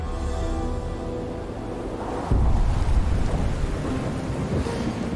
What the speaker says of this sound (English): They are thunderstorms coming.